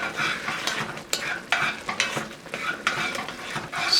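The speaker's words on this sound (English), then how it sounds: "Stir that up again." A spoon stirs cream of mushroom soup in a pot, making repeated scraping and clinking strokes in an uneven rhythm over a faint simmer, close by and with no talking.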